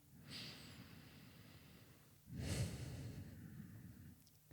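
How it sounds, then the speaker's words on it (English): Ujjayi breathing during a yoga pose: two slow, audible breaths, each a soft hissing rush through the throat, the second one longer and fuller, heard close and alone without talk. "Ujjayi breath for 5 and 1."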